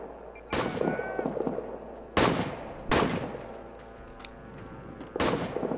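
Rifle shots ring out in a WWI trench video game, four sharp cracks spaced irregularly over a low battlefield rumble, each trailing a short echoing decay.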